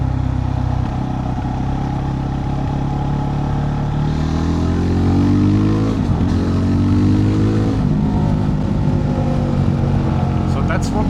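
Steady, loud engine drone from a Kove 450 Rally motorcycle with a Coober ECU, cruising in fifth gear above 3,000 rpm, its pitch rising and falling gently through the whole passage.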